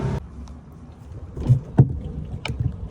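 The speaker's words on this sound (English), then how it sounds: "we're out on the water now. We're running along at 29 knots" A Finmaster 6 boat running over open water at 29 knots: heavy wind buffeting and rushing water with several sharp hull thumps and splashes, close and fairly loud, with no talk.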